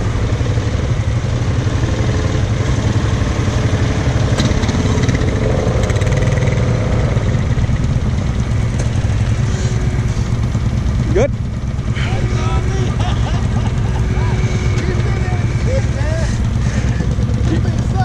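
A Honda off-road vehicle engine runs with a loud, steady low rumble close by at an off-road park, mostly constant with a brief dip, while people talk over it.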